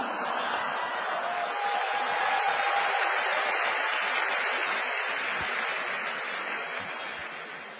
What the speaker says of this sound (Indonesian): Lu tepuk tangan ya